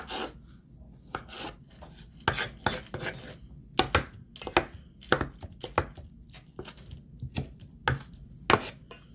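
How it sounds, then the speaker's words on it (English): A knife chops tomato into small squares on a cutting board for guacamole, a quick irregular series of close, sharp taps and thuds with brief pauses between bursts, no voices. "chop the tomato in half and cutting them into long strips and then into little squares"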